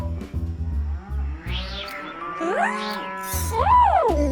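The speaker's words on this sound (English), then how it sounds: "That's the sound a cow makes." A cow moos in a few drawn-out, low, resonant calls with rising and falling pitch, fairly loud and near, separated by brief pauses.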